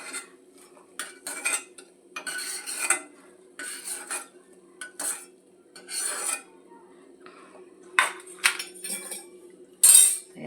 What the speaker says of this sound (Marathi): आता हे झाल्यानंतर आपण खारीक थोडं भाजून घेऊया